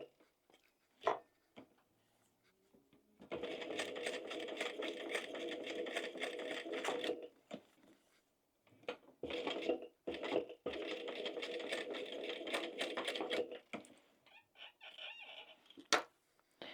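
A sewing machine stitches fish-shaped zip pouches in two long, steady, close runs, separated by pauses filled with quiet clicks and handling noises.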